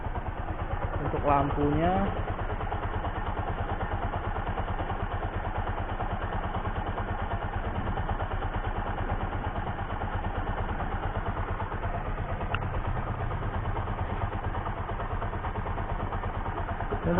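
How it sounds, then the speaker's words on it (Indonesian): A Bajaj Pulsar LS135 motorcycle engine idles steadily with a constant low rumble and mechanical clatter, close by, while someone briefly speaks over it. "motor Pulsar LS135 hidup"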